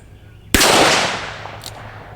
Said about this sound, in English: Let me shoot this big plate again.